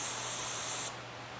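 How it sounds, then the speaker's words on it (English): Gum Out small engine carb and choke cleaner jets from the can onto a small engine carburetor from an Echo PB 200 blower, a close loud hiss that cuts off after about a second. "I'm just using Gum Out Small Engine Carbon Choke Cleaner."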